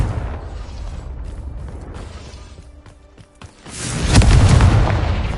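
A Confringo fire-spell explosion in the Hogwarts Legacy video game, a heavy booming blast swelling up late after quieter mechanical creaks and clicks.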